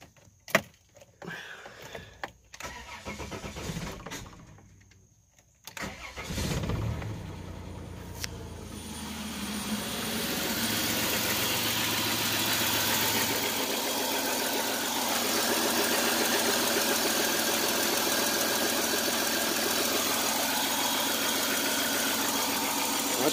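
Dodge Grand Caravan with a 3.3-litre V6, just repaired after a major fuel leak and running with a sensor unplugged, cranks with sputters and clatter, catches, then settles into a steady, close idle hum.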